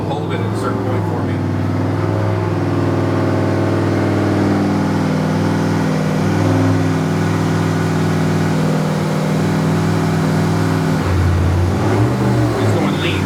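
A car engine on a dyno, revved up and held at a steady RPM by a controller, a loud continuous drone with a dip and recovery near the end, with talk over it.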